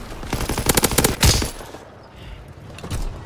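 Rapid bursts of automatic gunfire in Call of Duty: WWII, loud and close, a fast volley of cracks followed by a quieter stretch and a single later shot.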